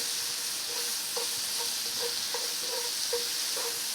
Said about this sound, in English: we wanna give these a good fry, a good, 2-3 minutes, get them a little translucent